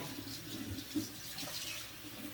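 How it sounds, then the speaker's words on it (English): A utensil is rinsed under a running kitchen tap after making an ice cream sandwich cake. The water runs as a steady, fairly faint hiss and splash without a break. "I'm gonna rinse this off real quickly"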